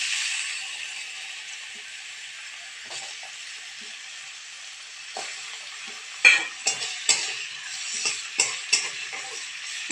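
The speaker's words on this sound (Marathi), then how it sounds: "बटाटा तेलामध्ये लाल होईपर्यंत तळून घ्यायचा" Potatoes fry in hot oil, giving an even, bright sizzle that runs throughout, joined in the second half by a series of sharp spatula clinks and scrapes against the pan.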